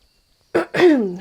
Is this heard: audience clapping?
no